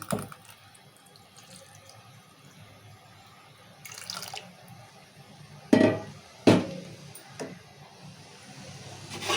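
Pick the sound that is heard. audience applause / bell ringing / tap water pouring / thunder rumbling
tap water pouring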